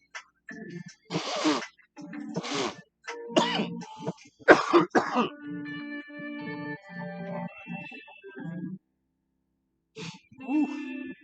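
Several harsh, bursting coughs come in clusters, close and loud, with throat-clearing and gasping breaths between them, then a pause and a final short cough.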